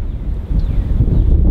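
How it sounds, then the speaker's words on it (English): Strong wind blowing outdoors near a barn, a steady loud buffeting roar with rumbling gusts against the microphone. "it's gonna be too windy. Let's go back in the barn."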